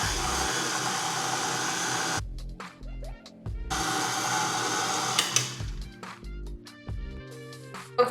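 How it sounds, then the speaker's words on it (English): An electric mixer beating chocolate chip cookie dough, a steady whirring motor that stops and starts in short bursts with bumps and clatter between, fairly close. "you want to start it on low if you're using an electric mixer"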